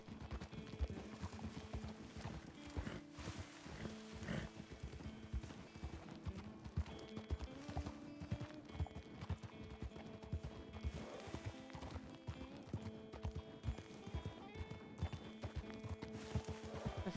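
Hooves clip-clop in a steady, rapid rhythm as a horse travels a treacherous trail in Red Dead Redemption (RedM) roleplay, the beats continuing throughout with an occasional whinny.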